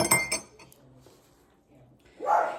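A metal loose leaf tea strainer is handled, giving a few close, light metallic clinks in quick succession, then a quieter pause and one brighter clink at the end.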